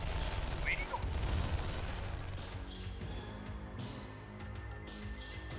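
Gunfire in the real-time strategy game Command & Conquer Remastered: a distant, muffled battle rattle of shots and crashes running steadily under the game's background sounds.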